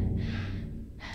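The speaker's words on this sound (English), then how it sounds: "listening to Maria breathing while I sprint now" A female character in Silent Hill 2 breathing while sprinting, two airy gasping breaths close and fairly soft over a low in-game background hum.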